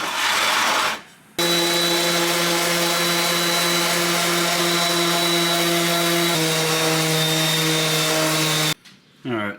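Sanding the curled bodywork edge of a BMW with 100 grit sandpaper: a steady, loud motorized whine runs for about seven seconds, dips slightly in pitch partway through, then cuts off.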